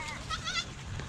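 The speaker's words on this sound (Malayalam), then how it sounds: "കുറേ ആടുകളുണ്ട്." Goats bleating at a goat farm in Nepal, several wavering calls close by across about a second, with faint background noise and no talking.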